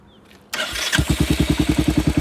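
A Royal Enfield Hunter 350 fitted with an aftermarket silencer cranks and fires up, settling into a close, thumpy idle with an even, rapid pulse of exhaust beats. No talking is heard.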